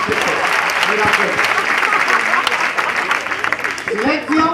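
A crowd claps and cheers loudly and steadily while voices talk over the applause.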